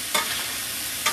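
Hamburger meat browning in a pan, a soft continuous sizzle broken by two brief scraping stirs of the spatula, fairly close and quiet with no voices.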